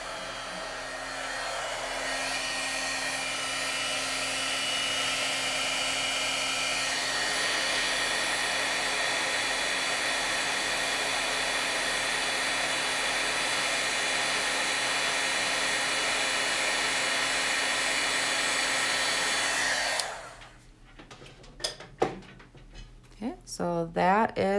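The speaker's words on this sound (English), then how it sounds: "Heat up my heat tool for a second." An embossing heat tool used for crafting blows with a loud, steady whooshing hum for about twenty seconds before it switches off. Scattered clicks and rustling follow, and speech may occur during the stretch.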